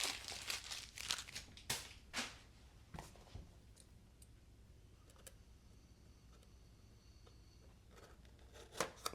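Package being cut open with a razor knife, producing a cluster of sharp cutting and crinkling sounds up close, then quieter rustling and a final crisp snap.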